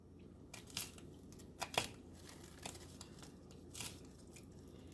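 Knife slicing through habanero peppers on a cutting board, with a handful of sharp, crisp cuts at irregular intervals over a quiet background.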